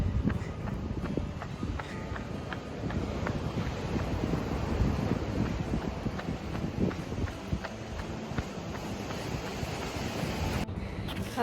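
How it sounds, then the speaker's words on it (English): Steady wind and surf roll along the California coastline, a continuous broadband wash of waves and gusts with no talk, briefly dipping near the end. "Back on the California coastline."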